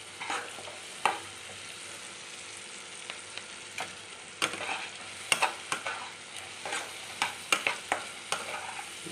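Spice paste frying in oil for an egg curry, stirred steadily with a spoon that scrapes the pan in repeated close taps over a constant sizzle.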